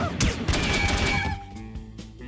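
Gunfire in the shooter video game No One Lives Forever: a loud, dense burst of rapid shots and crashing impacts for over a second, then fading into scattered quieter reports and echoes.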